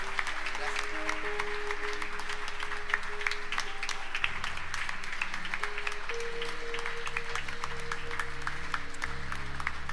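An audience in a church worship service gives a long, even round of applause, dense clapping that holds steady over sustained musical tones and voices.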